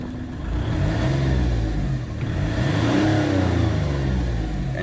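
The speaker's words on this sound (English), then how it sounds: "Engine sounds sweet." A 1999 Audi A2 engine revving near the microphone, a loud sustained mid-pitched drone whose tone rises and falls through a couple of throttle blips, with a slightly wheezy edge and no talking.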